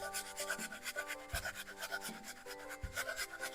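A cored, peeled Granny Smith apple rubbed across a coarse grater in rhythmic rasping strokes, close and fairly quiet, with no talking.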